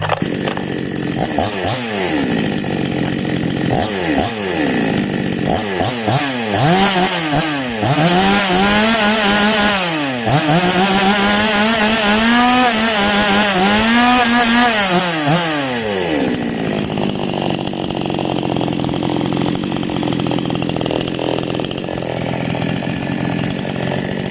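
A new chainsaw with an unsteady, dipping engine sputters to life with a few short bursts, then revs up and down loudly before settling into a steady, rough idle.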